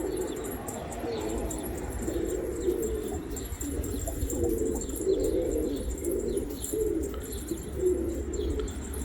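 Pigeons cooing in a loft in Turkey, low soft coos rolling continuously under scattered chirps and brief wing flutters, fairly close and steady with no talking.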